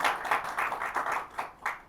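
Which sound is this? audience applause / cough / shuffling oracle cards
audience applause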